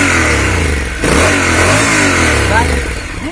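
A Honda NC750X with DCT gearbox revs its engine close by, a loud, steady mid-pitched roar that rises and falls, with someone talking over it.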